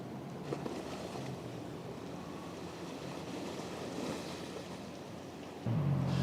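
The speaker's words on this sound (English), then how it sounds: "And just listen to this sea. It's really, really calm." Calm sea washing in along Blackpool promenade in midwinter, a steady soft surf wash with wind buffeting the microphone, louder rumble toward the end.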